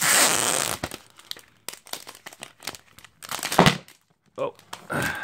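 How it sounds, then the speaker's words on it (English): Crinkly plastic wrapping on a tempered glass screen protector for an iPad Mini is peeled and unwrapped up close, loud crackling bursts at the start followed by scattered rustles and tearing sounds. "So let's go ahead and unwrap this."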